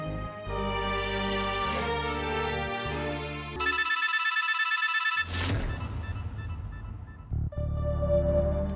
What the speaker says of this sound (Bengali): রিং হচ্ছে, কথা বল।